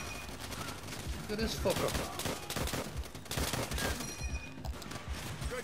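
Rapid machine gun bursts and scattered gunfire crackle through a World War II battle in the shooter World at War, loud and dense, with a man swearing briefly over the shooting.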